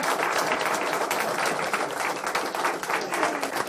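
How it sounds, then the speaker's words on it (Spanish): A large crowd applauds heartily for a young man at a village gathering in Robléu, Piloña, Asturias, with dense, steady clapping that stays loud and close throughout. "Hay un aplauso gordo a este guaje"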